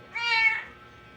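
A hungry cat gives a single clear, close meow, rising and then falling, inside a house.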